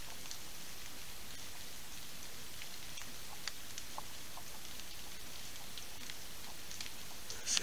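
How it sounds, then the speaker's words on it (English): Steady light rain patters on leaves and ground in the woods near a deer stand, a soft continuous hiss with scattered drips, quiet and even throughout. "Not only is the rain falling"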